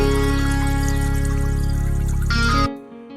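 Water sample in FL Studio: a steady, dense wash of flowing, trickling water that plays loud and continuous, then cuts off abruptly near the end.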